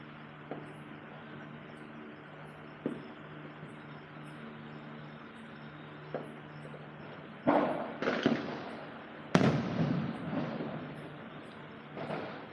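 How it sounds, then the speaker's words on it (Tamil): Several sharp bangs and crackling bursts of fireworks and firecrackers, including sky rockets, some close and loud, others fainter, going off irregularly over a steady low background hum. "எங்கே பார்த்தாலும் வெடி நல்லா செம்ம வெடி வெடிக்கிறாங்க"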